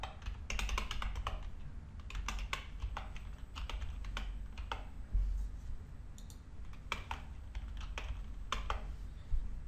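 Fast, irregular keyboard typing, crisp close-up key clicks in bursts with brief pauses, over a low steady hum.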